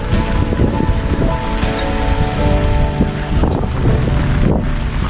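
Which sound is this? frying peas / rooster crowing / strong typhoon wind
strong typhoon wind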